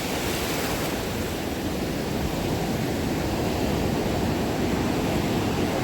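Ocean waves roll through shin-deep surf in a steady, dense wash, a close and constant hiss of water with no distinct breaks or voices.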